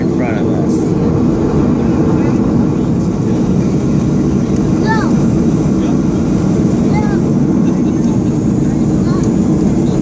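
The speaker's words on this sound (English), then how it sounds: "Another one is landing right in front of us." An airplane landing at SeaTac airport, a loud broad engine roar that holds steady for the whole clip, with other noise mixed in.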